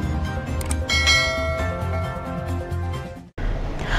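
A bell sound effect for a subscribe notification rings loudly with sustained, shimmering metallic tones like a church bell, cutting off sharply near the end before a low rumble resumes.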